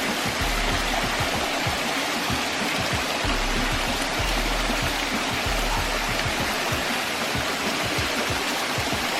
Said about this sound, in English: This is a little baby waterfall, this one, y'all, but it's still nice, though.